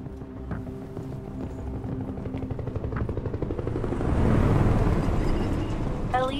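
A law enforcement helicopter in Detroit: Become Human whirs with a rotor chop that builds louder toward the end, mixed with other game sounds and no talk.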